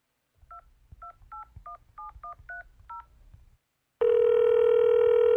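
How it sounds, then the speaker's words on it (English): Phone keypad tones beep in a quick series of about ten dialed digits, then a loud, steady voicemail tone sounds abruptly and holds to the end. "Leave a message after the tone"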